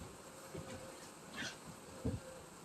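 Bees around a porch give off a faint, low buzz against quiet background noise, with a couple of brief louder passes.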